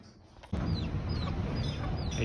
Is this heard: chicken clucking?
yes